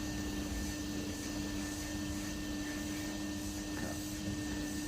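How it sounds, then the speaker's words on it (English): A Hoover vacuum cleaner cleaning a car runs in a steady, unbroken drone with a constant whine, moderately close, and no other sounds rising above it. "You can probably hear the Hoover."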